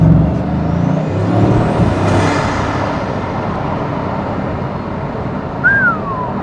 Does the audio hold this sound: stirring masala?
no